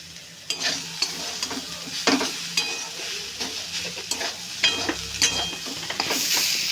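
Spiced banana flower curry stirred in a pan with garam masala added: repeated scraping spoon strokes against the pan over a steady frying sizzle, close and fairly loud, with no talking.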